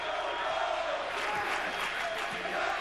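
A college basketball student section roars and cheers in a sustained wash of crowd noise in the arena, with a commentator talking over it.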